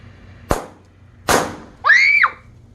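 Firecrackers go off nearby, two sharp loud bangs about a second apart, followed by a brief rising whistling shriek that ends abruptly.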